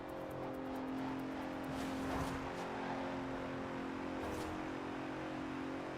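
A 2017 Bentley Continental Supersport engine running steadily in Forza Horizon 4, a low, sustained drone at a distance with a faint rise of revs partway through and no talking.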